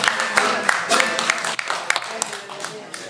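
Scattered clapping at a poetry event, a few sharp claps cutting through over spoken voices, fading from a brief patter into sparse isolated claps.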